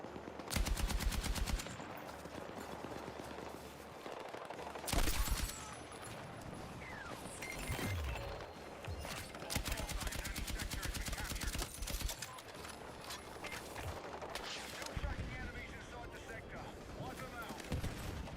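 Machine gun fire crackles in Battlefield 6 multiplayer, rapid bursts that come and go over about eighteen seconds, some loud and close and others farther off, with players talking over the shooting.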